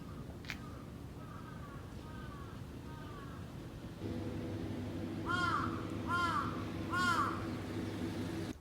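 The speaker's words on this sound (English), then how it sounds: "Look at that big crow." A big crow in a forested spot in Kyoto, Japan, gives a few faint distant calls and then three loud, harsh caws in a steady rhythm, over a constant outdoor hum.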